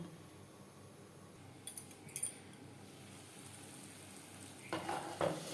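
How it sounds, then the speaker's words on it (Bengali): Spice paste for a rohu fish curry fries under a lid in a pan on a low gas flame, a quiet steady sizzle broken by a few brief metallic clinks and clatters from the lid or utensil. "গ্যাসের ফ্লেমটাকে লোতে করে দেবো চার পাঁচ মিনিটের জন্য ঢাকনা চাপা দিয়ে মশলা বেশ ভালো করে কষিয়ে নেব"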